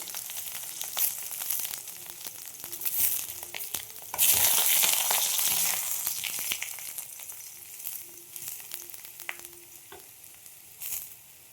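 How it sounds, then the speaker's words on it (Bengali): Large pieces of eggplant frying in hot oil, a steady crackling sizzle that swells loudly partway through as they are stirred, with scraping and light clinks throughout. "বেগুনগুলো ভেজে নেব।"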